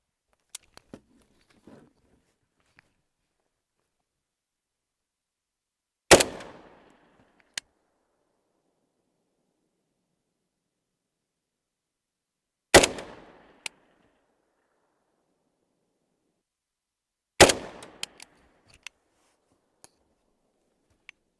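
Three loud, sharp rifle shots fired at a distant target with a red-dot sight on a tall mount, spaced roughly six seconds apart outdoors, each crack followed by a short echoing tail and a faint distant impact.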